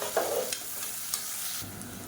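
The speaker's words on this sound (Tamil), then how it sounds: "இப்போ பாருங்கள், வெங்காயம் பூண்டு நல்லா வதங்கிருச்சு" Onion, garlic and curry leaves frying in a pan for a black-eyed pea curry, a soft steady sizzle with a few light stirring scrapes, close but fairly quiet.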